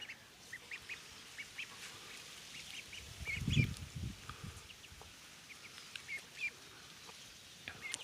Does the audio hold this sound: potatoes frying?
no